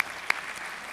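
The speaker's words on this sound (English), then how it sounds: "Please give another round of applause for an outstanding presentation." Applause from an audience following an academic presentation on interprofessional health education, a brief burst of clapping with one sharp clap standing out, fairly distant and steady.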